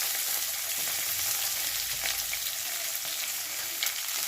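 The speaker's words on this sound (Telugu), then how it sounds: "ఇవన్నీ వేసి బాగా ఫ్రై చేసుకోవాలి" Onion, green chillies and curry leaves frying in a pan make a continuous, even hiss and crackle that is close and moderately loud, broken by a few faint clicks, with no talking.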